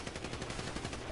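Rapid gunfire from a video game, a dense, faint burst of repeated shots lasting about a second.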